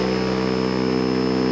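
Toro lawn tractor converted to electric power, its motor idling with a steady, loud, even hum and strong sustained tones, unchanging throughout.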